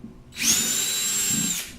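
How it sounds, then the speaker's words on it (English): A power drill spins up and drives through a plastic motorcycle saddlebag via a pilot hole on a 2016 Indian Scout Sixty, a short steady whine lasting over a second, close and alone. "it's a little easier to drill right through."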